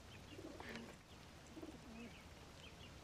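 Pigeons coo softly in short low repeated phrases at a moderate distance, with faint chirps and light outdoor background noise.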